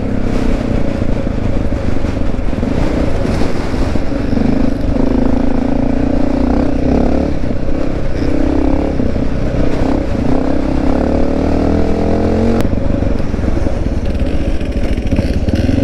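A Honda XR650L motorcycle on an off-road vehicle park trail runs loud and close, its single-cylinder engine droning steadily with throttle swells that rise and fall in pitch.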